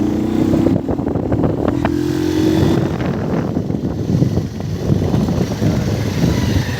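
A nearby motorbike engine in a college area runs steadily and loudly, with a rising whine early on and continuous rumbling throughout, alone without talk.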